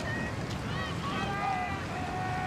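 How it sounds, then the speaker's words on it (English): Gusty wind buffets the microphone steadily at a river rowing regatta course, a continuous rushing roar with faint tonal whistles and whines on top. "Tricky, gusty conditions out there."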